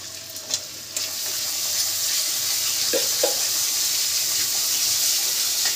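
Ginger-garlic paste sizzles loudly in a pan of fried onions, a steady broad hiss that swells after a couple of sharp early pops, with a few soft stirring clinks partway through.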